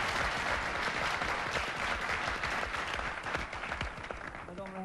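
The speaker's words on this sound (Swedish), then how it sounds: "han är värd en liten applåd tycker jag" A studio audience gives sustained, dense applause on a Swedish Cluedo game show, filling the clip loudly before a voice and a brief musical tone emerge at the very end.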